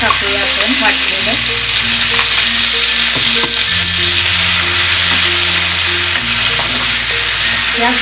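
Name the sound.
ground masala sizzling in hot pan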